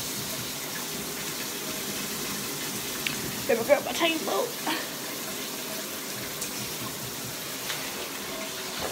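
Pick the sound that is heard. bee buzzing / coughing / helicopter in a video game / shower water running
shower water running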